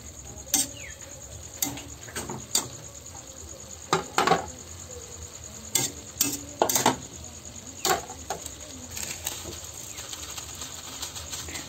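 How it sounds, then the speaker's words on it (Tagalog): Squash and string beans stirred in a pan, with sharp intermittent scrapes and clinks of a utensil against the metal over a soft steady sizzle, fairly close and without talk. "Ang isusunod nating ilalagay ay ang sitaw. Haluin lang natin ito guys."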